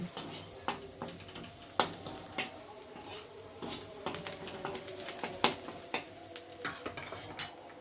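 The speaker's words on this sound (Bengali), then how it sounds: "দিয়ে আবারও মশলাটা ভালো করে ভাজা ভাজা মতো করে নিচ্ছি" A chili, cumin and coriander masala with salt is fried and stirred in a pan, heard as a quiet low sizzle under repeated sharp clicks and scrapes of a spatula against the pan, fairly faint overall.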